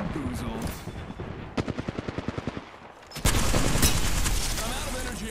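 Video game gunfire in a team shooter: a quick burst of about ten rapid automatic shots, a brief lull, then a loud dense barrage of overlapping fire and explosions, close and intense.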